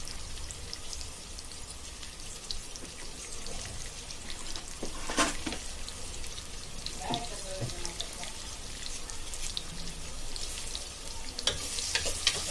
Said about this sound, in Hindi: अभी ये प्याज को थोड़ा नरम करेंगे, कलर बदली नहीं करेंगे